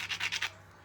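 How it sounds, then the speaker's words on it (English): A hammer stone brushes along the edge of a small pink stone spall being thinned for a point, giving four quick rasping scrapes in a steady rhythm, close and fairly quiet, then stopping. "you do a lot of brushing with the hammer stone"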